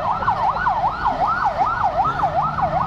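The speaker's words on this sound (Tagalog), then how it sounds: "Ambulansya pa guys." An ambulance siren wails in a repeated rising and falling sweep, about a dozen even cycles, loud and fairly close on a street, heard alone with a low traffic rumble beneath.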